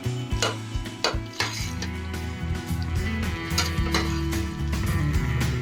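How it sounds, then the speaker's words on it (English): Mushrooms being stirred in a pan while vegetables sauté with chicken: steady sizzle under repeated clinks and scrapes of a utensil against the pan, close and continuous, with no talking. "Let me stir a little bit."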